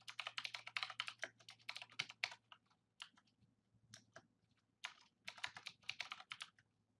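Rapid clicking of keys as text is typed on a computer keyboard, steady bursts with short pauses, close and clear over a faint low hum.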